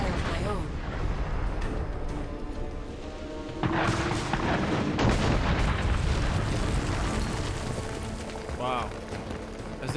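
Deep booms of cannon fire roll through a battle in the fantasy video game Dungeon Siege III, heavy and layered under dense combat noise, with talking over it.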